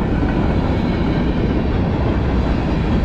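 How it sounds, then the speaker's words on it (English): A Norfolk Southern freight train of empty tank cars, led by a Dash 9 locomotive, rolls past close by on a cold morning, a loud, steady rumble with continuous wheel noise and no voices. "All these tank cars are empty. This is a boring train."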